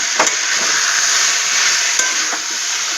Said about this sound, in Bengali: এটা আবার একটু নাড়লাম